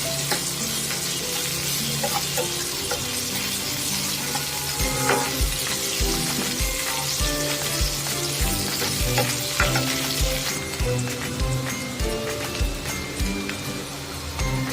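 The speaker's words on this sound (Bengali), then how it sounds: "তেলের মধ্যে একটু পেঁয়াজ কুচি দিয়ে দিলাম পেঁয়াজটা দু মিনিট ভালো করে ভেজে নিলাম" Chopped onion frying in hot oil in a kadai, a dense crackling sizzle with rhythmic spoon scrapes stirring the pan, close and continuous with no voices.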